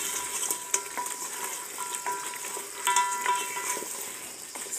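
Food deep fries in a pot over an African village cooking fire, giving a continuous bubbling sizzle with light spattering pops and occasional clinks, close and steady, without talk.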